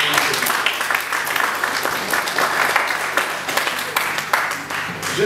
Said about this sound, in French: Je vous demanderai si vous voulez l'applaudir,